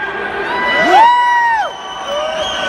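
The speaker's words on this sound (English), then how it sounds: "Can we hear you scream a little bit?" A concert crowd at a 90s-themed show screams and cheers loudly, a sustained roar with high whoops and rising shrieks that swell and then ease off.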